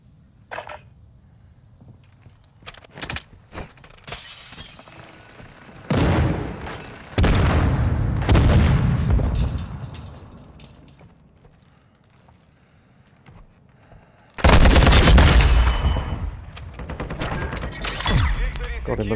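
SCAR rifle gunfire in a multiplayer shooter game: two heavy, punchy bursts of shots with booming tails, separated by several seconds of quieter game noise, while players talk over the action.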